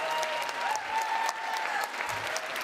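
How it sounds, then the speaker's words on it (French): An audience at a French-language talk or conference claps in sustained, dense applause that holds steady and fairly loud throughout. "Est-ce que vous pouvez encore faire un tonnerre d'applaudissements pour Myriam?"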